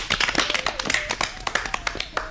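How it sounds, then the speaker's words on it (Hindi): A small school audience claps in a quick, uneven burst of applause for a student at a school programme, sharp hand claps close by, with a faint tone underneath. "तो इनके लिए तालियां तो बजाइए।"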